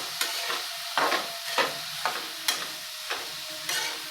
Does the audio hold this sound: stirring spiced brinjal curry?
yes